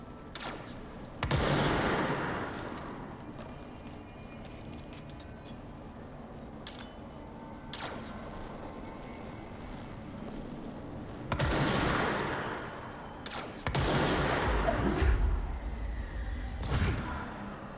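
Bursts of gunfire in the game Control, heavy rapid shots in several separate volleys with quiet stretches between, loud and close over a low background hum.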